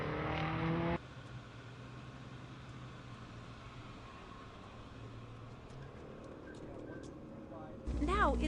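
Lotus sports car rolling along behind a white Porsche convertible, a steady low engine drone and road rumble heard from inside, with louder bursts at the start and end.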